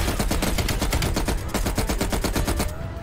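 A heavy machine gun in the video game Call of Duty Black Ops Cold War fires a continuous rapid burst of shots, loud and close, for about three seconds.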